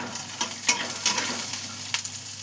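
Peanuts frying in a pan while being stirred, giving a steady sizzle broken by several sharp scraping clicks of the spoon, close and fairly loud with no talk.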